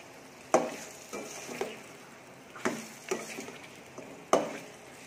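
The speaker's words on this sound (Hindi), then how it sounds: "लहसुन अदरक को भी 1 से 2 मिनट के लिए भून लेंगे।" Garlic ginger paste fries with beef in a karahi, a soft low sizzle under a few sharp scraping stirs of a spatula against the pan, quiet and close, no voices.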